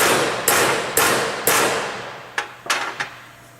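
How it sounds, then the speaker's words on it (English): A hammer knocks down the clips of a riveted hinged conveyor belt fastener, giving about seven sharp metallic strikes: three evenly spaced, then a quicker irregular cluster. They sound close and loud, with no talking. "We'll take our hammer and knock the rest of the clips down."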